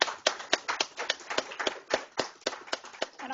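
An audience applauds guest speakers at a university lecture, with rapid irregular claps from a moderate-sized crowd, somewhat distant and steady for a few seconds.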